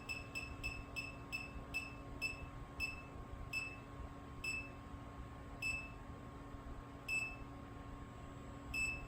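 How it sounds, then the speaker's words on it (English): A 30,000 BTU ventless gas heater in a greenhouse sounds short electronic beeps while calibrating, first rapid then spaced every second or so, faint over a steady low hum and background noise. "You hear that beep every few seconds."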